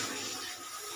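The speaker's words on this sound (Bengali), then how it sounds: "আর এই মশলার বাটিতে জল দিয়ে দিচ্ছি একটু ধুয়ে।" Water pours steadily into a spice bowl to rinse it out after mustard powder was added for a Bengali eggplant jhal, a continuous close splashing wash with no talk.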